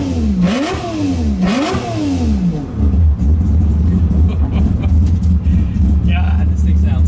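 A Mazda RX7 with a naturally aspirated three-rotor 20B rotary engine revs hard close by, two sharp rising-and-falling blips followed by a loud, buzzing idle, with voices talking over it.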